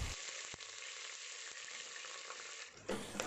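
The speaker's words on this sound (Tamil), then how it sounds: "கூடவே வெங்காயத்தையும் போட்டு நல்லா வதக்கிடுவோம்." Onions, garlic, curry leaves and fenugreek frying in sesame oil, a steady close crackling sizzle throughout with a brief stir-like clatter near the end.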